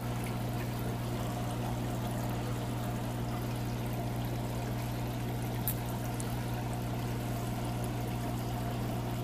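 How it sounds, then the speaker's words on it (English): Brine shrimp poured into a home aquarium, heard as a soft, steady pouring and trickling of water over a constant low pump or filter hum, continuous and without speech. "So I just threw in some brine shrimp."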